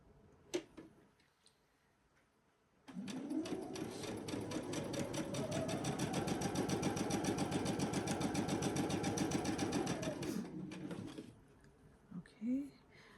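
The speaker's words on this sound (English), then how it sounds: "let me sew these two on here" A sewing machine stitches fabric strips together for a jelly roll rug, running in one steady, fast-ticking whir for about seven seconds, with quiet handling sounds and brief speech before and after.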